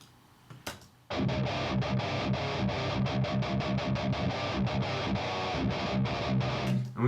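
Distorted electric guitar through a 5150 amp plugin and an Orange 4x12 cabinet with Vintage 30 and Greenback speakers plays tight, chugging palm-muted riffs after a brief quiet lead-in, loud and dense, ending on a sustained ringing chord.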